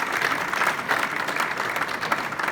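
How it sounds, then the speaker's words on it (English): Crowd applause inside an aircraft hangar at a business aviation event, loud and continuous clapping with no pauses, filling the large space evenly from start to finish. "So a round of applause for TAG Aviation."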